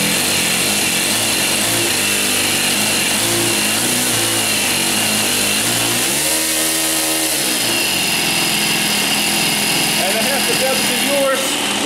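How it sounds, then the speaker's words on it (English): A small ASP 5cc four-stroke model airplane engine, on a Pietenpol Air Camper model, runs at a high, buzzing pace nearby, steady except for a brief dip in revs midway, with voices heard over it. "We must hear this engine."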